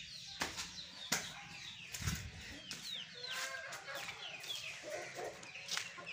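Hens and a rooster inside a rural coop give off scattered clucks and short calls, with a couple of sharp bursts of wing flapping or rustling, fairly faint and close, with no talk.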